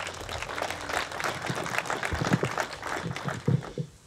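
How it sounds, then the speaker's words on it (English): Clapping from a small outdoor community gathering in Robe, South Australia, marking a gasfield-free declaration, steady and moderately loud for about four seconds before thinning out at the end, with a few louder claps near the close. "So give yourselves a wonderful clap and applause."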